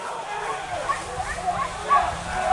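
Hunting dogs yip and bark during a wild boar hunt in the forest, the barks distant and faint, scattered beneath ongoing chatter from the hunters.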